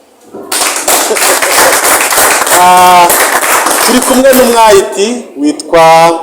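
An audience at a prayer gathering claps and applauds in a dense, loud burst of hand claps while someone speaks over it.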